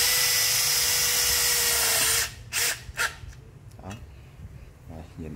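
A Makita DDF083 cordless drill whirs loudly and steadily while driving a screw, then stops abruptly, leaving a few short bursts and clicks against a quieter background.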